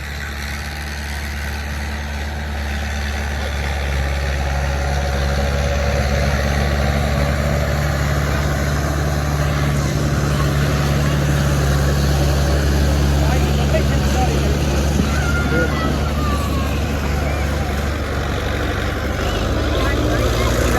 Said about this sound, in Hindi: 640 ट्रैक्टर जो है उसने निकाल लिया है।